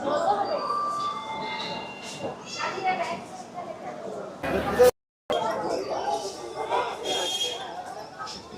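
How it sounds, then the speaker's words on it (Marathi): A train pulling into Bangalore station: steady rumble and clatter of the arriving carriages, with thin metallic squealing tones and busy platform ambience. Voices are heard throughout, and the sound cuts out abruptly for a brief moment partway through. "तर आपली ट्रेन आताच येऊन पोचल्या."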